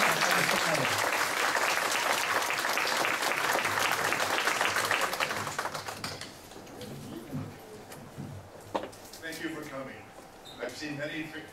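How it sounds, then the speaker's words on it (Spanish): Audience applause at a community event for a Latino workforce development academy, a loud sustained crowd clapping that fades after about six seconds into scattered claps, with voices talking beneath and afterward. "Les damos un aplauso para que se puedan."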